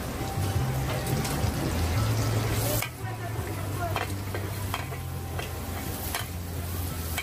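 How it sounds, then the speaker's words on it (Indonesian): Mie goreng noodles stir-fried at a Penang street food stall, a steady close sizzle with scraping and clinking of a spatula against the wok, continuous under a faint background hum, no talking. "Kalau tadi habis buat char kway teow, sekarang buat mie goreng lagi."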